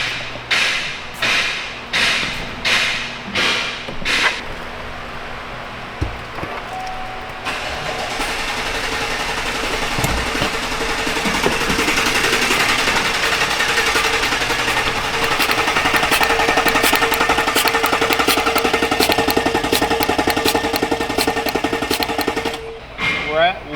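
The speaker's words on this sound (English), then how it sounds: "I'm gonna hit the starter and see what we can get it up to." A starter cranks a GMC AT4 6.2L V8 during a compression test, with a quick run of rhythmic chugging bursts at first, then a long, loud, steady whirring roar that cuts off near the end.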